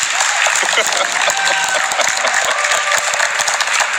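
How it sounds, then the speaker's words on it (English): An esports crowd at a Clash of Clans championship league final cheers and applauds loudly in a dense, sustained roar of clapping, with commentators' voices talking over it. "The crowd goes wild."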